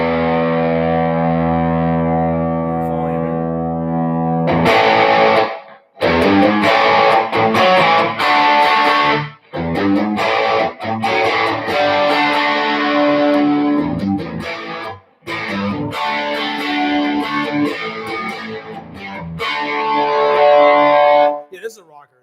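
A Fender American Professional II electric guitar plays through distortion, loud and close. A long ringing chord opens into strummed riffs and chords with a few brief pauses between phrases.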